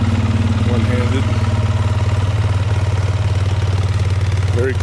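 A quad ATV with an enclosed cab runs steadily during a ride, its engine thrumming in a low, even idle-like drone that fills the whole moment without a break.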